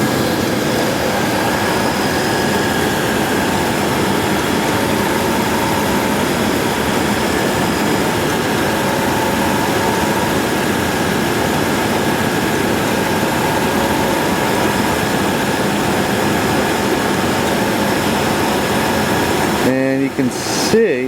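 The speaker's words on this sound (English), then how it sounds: "Now put the compressors on. Alright, compressor cycling." A vehicle's AC compressor runs during a refrigerant recovery setup between two vehicles, a steady, loud engine-like drone that holds constant throughout before a brief clattering disturbance at the very end.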